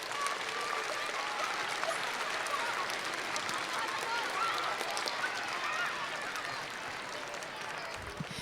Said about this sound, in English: would you please stand up so we can give you a big round of applause?